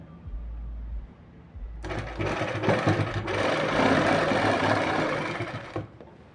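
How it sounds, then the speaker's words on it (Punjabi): A sewing machine stitches invisible lace onto the slits and hem of a kurti, running in one steady, fairly loud burst of about four seconds after a low hum, with no talking. "ਇਦਾਂ ਕਰਕੇ ਇਹਦੇ ਤੇ ਫਿਰ ਆਪਾਂ ਸਿਲਾਈ ਲਗਾ ਲਾਂਗੇ"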